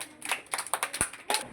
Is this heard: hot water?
no